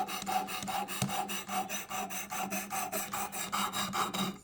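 A knife blade is stroked against a sharpening stone to remove the burr, giving a quick, even series of raspy scrapes, about four per second, close and moderately quiet with no voices.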